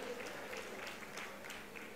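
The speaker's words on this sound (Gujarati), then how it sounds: "આપણે તાળીઓના નાદથી વધાવીએ." Faint, steady applause from a gathered audience at a ceremony in Surat where a leader is weighed against 101 kilograms of silver, a soft continuous patter of clapping heard from a distance.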